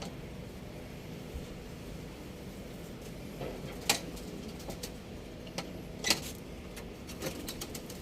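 Pigeons cooing in a coop, soft murmuring coos under a faint background hiss, with a few sharp ticks and clicks scattered through, no voices.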